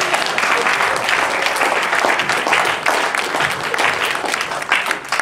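A church congregation at a pastor's departure celebration applauds continuously, a dense, even wash of many hands clapping close and loud throughout.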